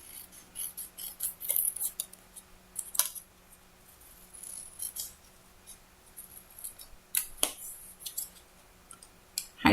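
Scissors snip and rustle through kraft paper card in short bursts of cutting with pauses between, close and fairly quiet.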